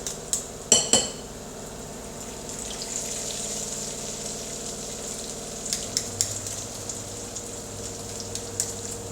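Palestinian falafel fry in fresh oil, a soft continuous bubbling sizzle heard close up; a few sharp metal clanks of utensils come near the start, and lighter taps follow later, with no speech.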